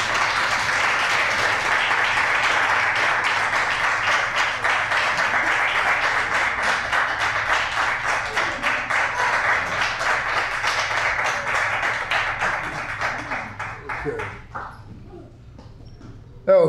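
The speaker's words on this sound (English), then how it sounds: "Let's give her another big round of applause." Audience at a poetry reading in a branch library applauds after a poem, dense steady clapping that gradually thins and fades out near the end.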